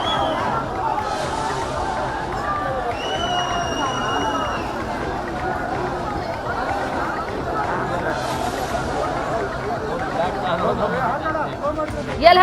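Dense crowd of party workers cheering and chanting slogans as Prime Minister Modi's motorcade passes along a guarded route in Bengaluru, a steady roar of many voices with no pauses.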